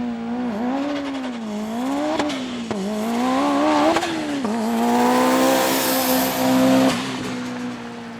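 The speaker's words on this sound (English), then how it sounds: "due to that exhaust, we can now listen to that exquisite tone" A 2004 Evo's engine roars through a short exhaust at a track day, rising and falling through repeated revs and gear changes as the car drives nearby, loud and continuous with no talk.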